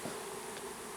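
Honey bees at a hive give a steady, close buzzing drone that lasts about a second.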